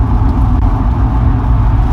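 Cars pass on a Texas highway, heard as a constant loud road roar with no breaks and no talk.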